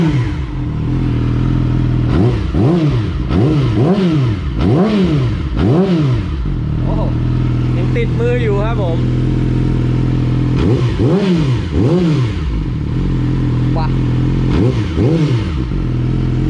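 A 2017 Yamaha R6 sport bike, idle for three months, is blipped repeatedly at standstill: sharp rising-and-falling revs in quick bursts over a steady idle, a pause, then another cluster of revs, loud and close.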